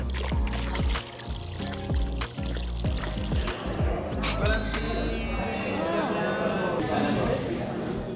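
Chlorine is gently poured into a backyard swimming pool near the water outflow, giving a gurgling, trickling splash under someone speaking, with a thin ringing tone partway through.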